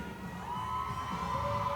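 A gymnastics meet crowd cheers for an individual athlete, a continuous moderate wash of voices and whoops from a large arena audience, held steady throughout.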